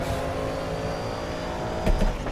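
A race car engine in a racing video game roars steadily at high revs, loud and close, with a brief surge near the end as the throttle shifts.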